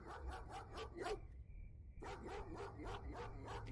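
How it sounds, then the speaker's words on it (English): A dog barks in a radio mystery drama, a rapid series of sharp barks that pauses briefly and then resumes at a steady rhythm, moderately close and loud with no voices over it. "Damn dog!"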